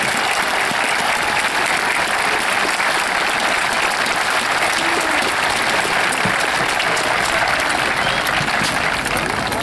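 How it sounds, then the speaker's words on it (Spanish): Sustained, steady applause from a large audience at the 2017 Chilean Military Tattoo, a dense wash of clapping throughout with no talk. "el gran aplauso a los participantes del Tatú Militar Chile"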